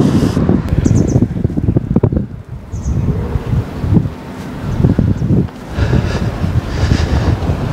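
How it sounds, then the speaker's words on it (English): Strong breeze gusting beside Cobh harbour in County Cork, loud buffeting wind noise on the microphone with rustling, rising and falling in gusts throughout. "there's a mad breeze blowing here now at the minute"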